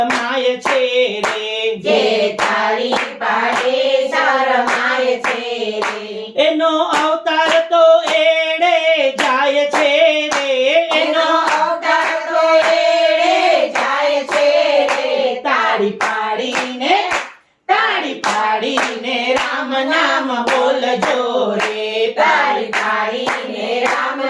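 A Gujarati bhajan group claps in steady rhythm along with their singing, sharp, evenly spaced hand claps running under the voices, with a brief pause near the end.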